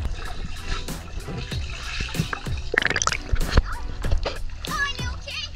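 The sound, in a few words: splashing into marina swimming pool water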